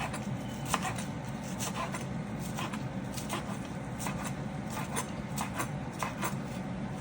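Kale being chopped into small pieces for a spinach and kale stir-fry, heard as a steady run of quick knife taps against a board at an even rhythm, close and moderately loud, with no talking.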